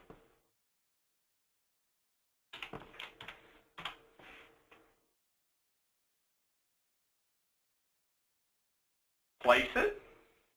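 Short bursts of computer keyboard typing come in two clusters of quick keystrokes, close and fairly clear, separated by silence, as a street name is entered for a road sign layout.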